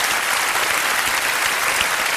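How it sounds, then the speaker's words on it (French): An audience at a televised cabaret show claps, a dense, even burst of applause throughout with no voices on top. "je voudrais qu'on applaudisse très fort Mademoiselle Daniela Lombroso."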